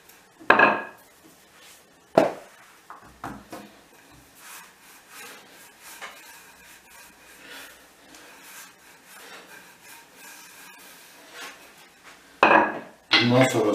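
A wooden rolling pin rolls börek dough very thin on a board, making soft rubbing strokes broken by louder knocks and clatters at the start and end, with no talk.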